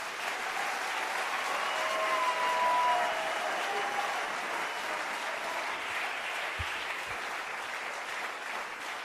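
A church congregation applauds and cheers for Jesus in a sustained, even wash of clapping that swells slightly early on, then holds steady at a moderate distance, with faint voices mixed into the crowd noise.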